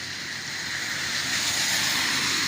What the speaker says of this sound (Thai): ท่วมน้ำท่วมฝนตก